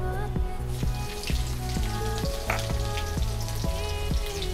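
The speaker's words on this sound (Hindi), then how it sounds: "अब हम इसमें 1 चम्मच जीरा डालेंगे, 1/2 चम्मच बारीक कटा हुआ हरी मिर्ची" Cumin seeds and finely chopped green chilies frying in hot ghee for a vrat khichdi, a steady close sizzle broken by repeated sharp clicks of a spoon stirring against the pan.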